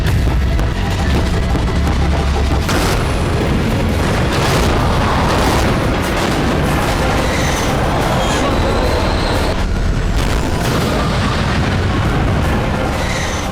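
Israeli missile strikes on the Gaza Strip: loud, continuous rumbling blasts with repeated booming bursts, heavy and close, filling the whole stretch without letting up.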